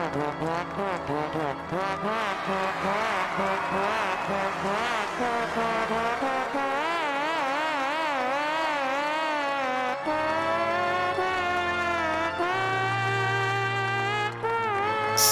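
Comical trombone notes from the Trombone Champ VR game, loud and continuous over a full backing track with sliding, wavering melodic lines.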